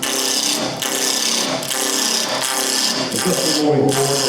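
Steady scraping and cutting from a ball gouge roughing out a spinning wooden blank on a lathe, continuous and close with brief dips in the rhythm.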